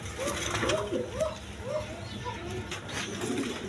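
German Beauty pigeons coo in soft, repeated throaty phrases over a low hum and general background noise, with some distant voices.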